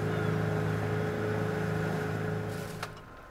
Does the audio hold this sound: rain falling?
no